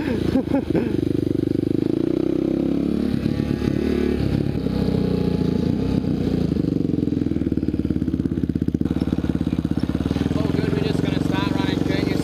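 A mini moto and a Honda XR650R motard ride around corners, engines buzzing and revving in shifting pitch, loud and continuous, with someone speaking over part of it.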